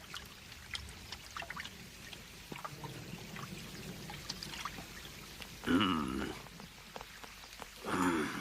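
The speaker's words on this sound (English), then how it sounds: "The rain trickled down his back, and for nearly an hour he stared at the float." Rain patters and trickles in a cartoon scene, soft scattered drops and drips close by, with two louder pouring splashes of water near the end.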